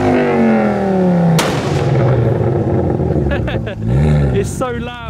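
A loud Ford Focus ST exhaust with a crackle map roars and revs up and down, with sharp crackling pops and a blast partway through.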